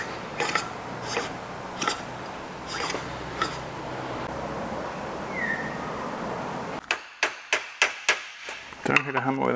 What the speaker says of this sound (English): Don't hit a hammer with a hammer.